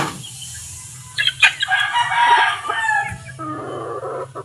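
Backyard chickens and a rooster, with a loud close rooster crow rising and falling over about two seconds, followed by clucking hens, over a steady low hum in the background.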